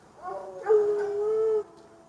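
Dogs howling nearby in a home setting, one drawn-out, steady howl rising after a brief whine and holding for about a second before cutting off, fairly loud with no talk.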